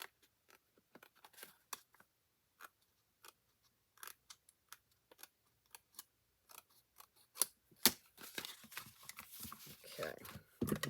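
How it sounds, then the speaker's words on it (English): Scissors trim the overhanging edge of a paper craft piece in a string of crisp, close snips, at first sparse and then quicker and denser toward the end. "I'm just going to trim off a little bit of this because I don't like it hanging over."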